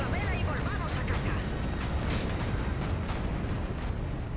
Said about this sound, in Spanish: Vamos a ver la detonación de la torre